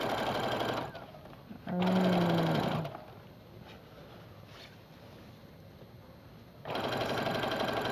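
Sewing machine stitching a straight seam along the strap of a homemade owl-shaped apron, two loud bursts of running stitches with a quieter pause between, where a faint tone sounds.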